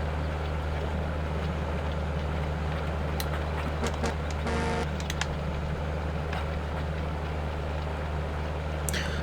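A tractor cultivates a straw-covered field in Farming Simulator 15, giving a steady low engine drone with occasional faint clicks and a brief rattling burst partway through.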